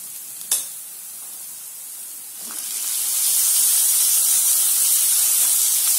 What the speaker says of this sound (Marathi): यात आता आपण आपला बारीक चिरलेला टोमॅटो टाकायचा